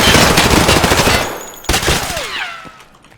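Full-auto MP5 fire in the video game Escape from Tarkov, a loud, dense burst of rapid shots filling the first second and a half, then a sharp final report followed by ringing echoes and tinkling tails that fade out.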